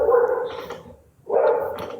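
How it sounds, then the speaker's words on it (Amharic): A dog barks in two loud, close bursts with a short pause between, heard alone. "ውሻ ከኋላ እየጮኸ ነው።"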